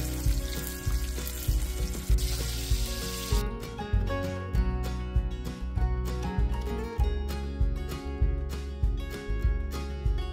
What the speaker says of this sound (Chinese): 然后裹上薄薄的一层面粉，放入热油里炸至两面焦黄